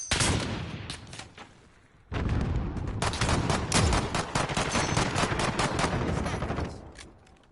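Dense, sustained automatic gunfire from a Call of Duty Warzone match: rapid overlapping shots fill nearly the whole stretch, briefly thinning near the start before a loud burst resumes and continues to the end.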